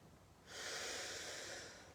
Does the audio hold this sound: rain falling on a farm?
no